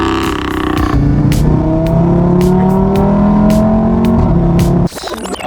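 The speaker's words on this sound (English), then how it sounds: "That's gonna be a cold start." Engine of a 2016 Audi RS3 revving loudly on a cold start, rising in pitch with sharp blips, then cutting off abruptly near the end.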